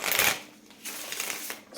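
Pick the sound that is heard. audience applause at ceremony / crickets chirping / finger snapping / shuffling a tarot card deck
shuffling a tarot card deck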